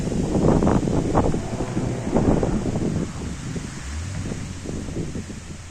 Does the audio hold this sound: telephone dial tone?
no